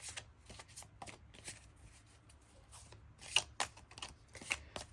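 Moon Garden Tarot cards being shuffled by hand, with a run of quick papery riffles and soft slaps coming in irregular bursts, close and fairly quiet, with no talking.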